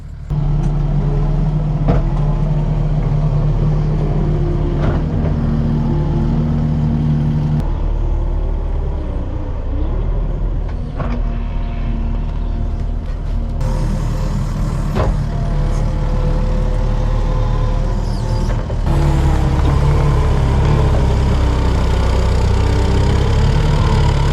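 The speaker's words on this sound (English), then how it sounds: "we're going to get in with a skid steer and see how much we can shave off here" A skid steer loader used to shave down ground for a cattle sunshade on a farm runs with a steady loud diesel drone, its pitch and load shifting slightly as it works, close by with no voices.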